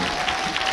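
Brief burst of audience clapping at a Korean stage event in Hamyang, short and steady, under a second long.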